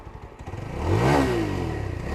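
Yezdi Scrambler motorcycle engine with stock exhaust, a close idle thumping that swells into a loud rev and settles back into a throbbing idle.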